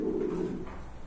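Pigeons at a market coop give a soft, low cooing burst up close, fading into a quieter murmur.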